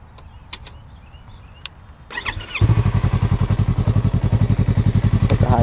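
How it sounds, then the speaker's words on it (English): A Yamaha YZF-R3 motorcycle engine cranks with a short clatter, catches and settles into a steady, loud, pulsing idle close by, after a few faint clicks and switch sounds. "I'll turn the bike on real quick so that way you can see."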